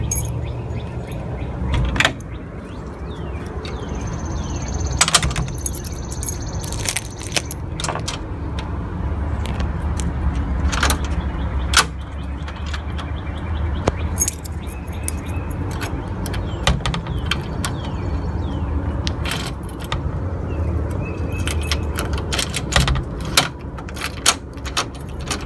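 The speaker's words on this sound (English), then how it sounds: "Let's try out the keys." Keys being tried in a newly installed Andersen 2000 storm door latch, with scattered metallic clicks, jingles and latch clacks, close and intermittent over a low background hum.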